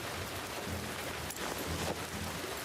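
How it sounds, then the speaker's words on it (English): Steady rain pouring inside a ruined building in The Last of Us Part 2, a constant close hiss of water with soft low rumbling underneath, continuous throughout with no voices. "Oh, gross, it's raining in here."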